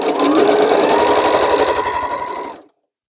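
Sewing machine stitching vinyl totes in a batch, a steady fast run of needle strokes that stays loud and close for about two and a half seconds before stopping abruptly.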